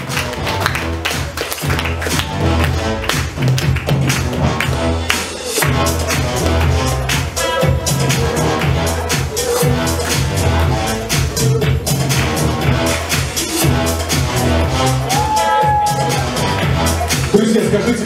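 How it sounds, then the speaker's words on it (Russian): Sustained applause and clapping from an audience at a fashion show of sweatshirts, dense and steady across the whole stretch with crowd murmur mixed in. "Друзья, ваши овации Марина Старикова."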